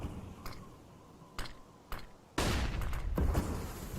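A flashbang grenade goes off during a Counter-Strike match in a BLAST Premier grand final. A loud, sustained broadband burst is preceded by a few sharp, brief game clicks and pops.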